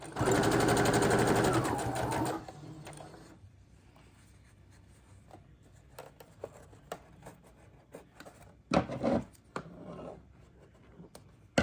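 A sewing machine stitches across quilt block seams in a short loud burst, followed by quiet fabric handling and scattered soft knocks and rustles.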